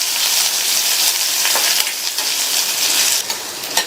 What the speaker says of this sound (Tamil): இந்த வெங்காயம் லைட்டா வதங்கினா போதும்